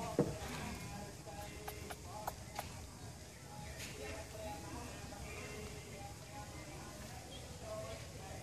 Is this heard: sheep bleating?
yes